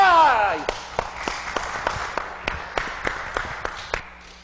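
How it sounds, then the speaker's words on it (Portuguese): Scattered claps from a small live audience at a radio talk show, a dozen or so sharp taps spread unevenly over a few seconds, following a brief whistling tone at the start, with no one speaking. "vamos aplaudir o nosso embaixador"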